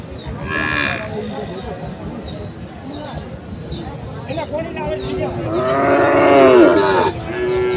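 Cattle, including pied cows, at Ambari livestock market where Sahiwal bull calves are sold, with a short moo early and a long, loud, close moo near the end over steady crowd noise and talking.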